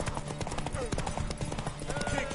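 Horse hooves clip-clop at a steady pace in The Witcher 3 video game, a rhythmic clatter of hoofbeats under a dense mix of crowd noise and game sound.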